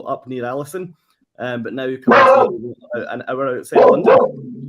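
A pet dog barks at home during a live online cruise-tips chat, a couple of loud, sharp bursts breaking in between stretches of someone talking.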